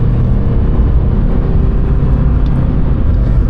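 Lamborghini Temerario engine revving from inside the cabin, a loud, dense, steady low roar with a strong rumble, continuous without pauses.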